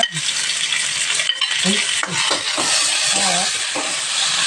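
Crispy binagoongan pork fries in a pan, a loud, continuous sizzle and crackle of hot oil with occasional stirring clinks throughout.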